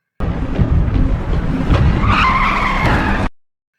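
Tires squeal sharply as a car skids to a stop in a film scene where someone is nearly struck, the screech loud and close, lasting about three seconds before cutting to silence.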